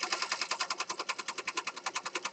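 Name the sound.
sewing machine doing zigzag stitch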